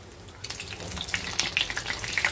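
A chicken and egg bread roll fries in a pan, giving a steady, close sizzle with scattered crackles and pops that grow a little busier toward the end.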